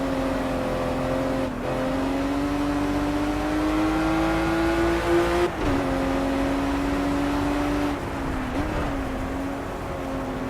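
Sustained engine drone of a StanceWorks Series 1 BMW race car lapping Bathurst in Project CARS, steady and loud with pitch rising slowly, brief dips at gear changes or lifts, heard alone without voices.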